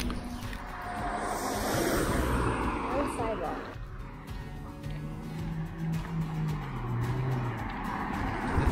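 Cars passing on a narrow road in Rock Sound, Bahamas, a swelling and fading whoosh of traffic with engine hum, tire noise and wind, someone talking over it.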